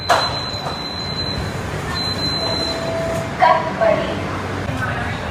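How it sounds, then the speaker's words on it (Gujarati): A metro train rumbles into a station, with thin high-pitched brake squeals and a few louder clanks amid the station noise. "જો ટ્રેન આવે છે ત્યાંથી."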